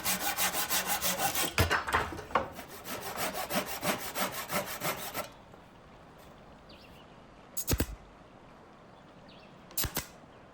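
A hand saw cuts miters in wood with steady, rhythmic back-and-forth strokes for several seconds, then stops, leaving quiet broken by two brief scraping bursts.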